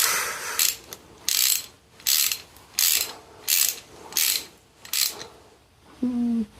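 A ratchet wrench clicks in seven loud, evenly spaced bursts while tightening bolts on the emergency brake of a 1996 Cushman Titan, with a brief voice at the very end.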